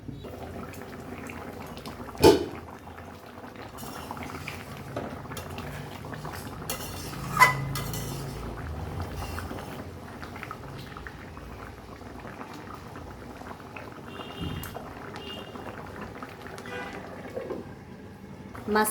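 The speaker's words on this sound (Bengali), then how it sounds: "ঢেকে দিলাম মাছটা এখন আস্তে আস্তে সেদ্ধ হোক মাছ" Catfish (magur) simmers covered in a pan, a soft continuous bubbling with a few faint lid or utensil clinks spaced through it, quiet and close, without talk.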